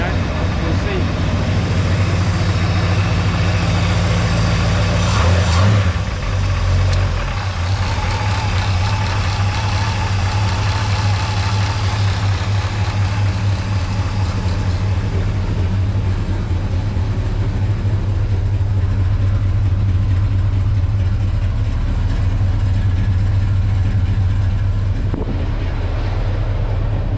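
A rebuilt Chevy 350 small-block with a Holley carburetor idles steadily, a low, even rumble that runs loud and constant the whole time, with a brief louder bump early on and voices talking over it.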